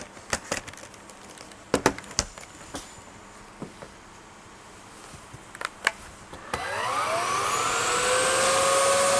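A Samsung Power Stick Pro stick vacuum fitted with its wide Soft Action brush powers up after a few scattered clicks and taps, then settles into a steady, rising whine with a loud, close airy roar.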